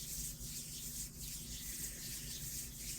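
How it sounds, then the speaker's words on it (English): Palms rubbed together, a soft, steady, close-up friction hiss that continues for a few seconds with slight surges in intensity, heard alone without speech. "Bring your palms together, rub them together."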